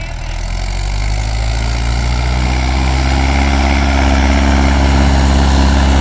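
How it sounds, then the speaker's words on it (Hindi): Mahindra 575 XP Plus tractor engine running, a steady deep diesel rumble with a low droning hum that holds constant and loud throughout, close by with no speech. "अब ये ट्रैक्टर भी चला के दिखाई जाएंगे शायद, और दोनों ही हैं XP प्लस महिंद्रा 575।"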